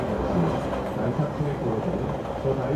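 A train runs on the DMZ line toward Dorasan station near the North Korean border, a steady low rumble of wheels and carriages that stays continuous and fairly loud throughout, with no clear speech.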